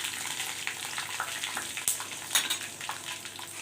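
Whole coriander seeds and cinnamon fry in oil with a soft, steady sizzle and faint crackling pops, quiet and close, with a few sharper spits standing out.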